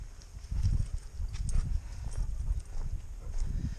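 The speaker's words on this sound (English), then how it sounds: "take a single horse out today" Slow clip-clop of a single logging horse's hooves walking on hard ground, a steady rhythm of dull thuds up close with no voices.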